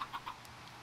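Chickens in a blocky Minecraft-style game let out a few short, faint clucks in quick succession over quiet background.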